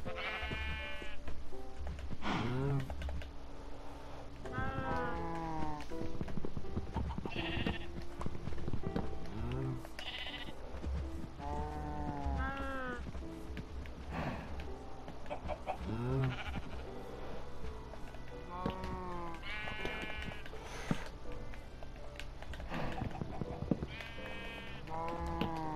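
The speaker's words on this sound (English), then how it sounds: "Come here, sheep." Blocky Minecraft sheep bleat repeatedly in a farm pen, with clip-clop steps and other farm animal sounds mixed in, while a player talks throughout.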